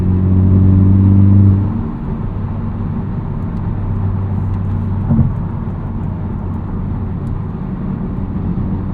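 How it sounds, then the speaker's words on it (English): A 2023 Honda Civic Type R with an MRT Street Race axle-back exhaust cruises steadily at highway speed, its low engine drone and road rumble heard from inside, dropping slightly in level after the opening seconds. "steady state cruising here, 75 miles per hour"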